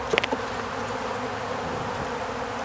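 Honey bees buzz steadily around an opened hive during an inspection, a continuous close drone with a few brief louder passes from individual bees near the start.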